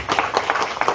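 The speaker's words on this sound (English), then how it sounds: "Let's go ahead and show that by hand clap of appreciation" Church congregation at a Wednesday evening revival clapping hands in appreciation, a short close burst of separate claps in quick rhythm.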